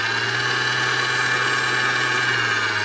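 A stand mixer with a whisk attachment beats a baked cheesecake mixture of fresh French goat's cheese, a steady motor whir with a constant low hum, close and continuous with no talking.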